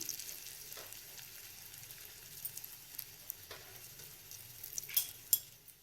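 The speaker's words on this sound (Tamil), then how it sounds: "இப்போ இந்த வேப்பம்பூவை அதில் வறுத்து எடுத்துக்கலாம்" Neem flowers frying in sesame oil in a pan give a soft, steady sizzle with a few faint stirring clinks and scrapes, quiet and close with no talking.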